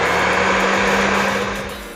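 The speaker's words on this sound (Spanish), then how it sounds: "Lo vamos a empezar a batir primero poco a poquito a velocidad media, bueno, velocidad baja" An electric mixer beats eggs at low speed for Mexican chiles rellenos, a loud, close, steady whirring hum that eases off slightly toward the end.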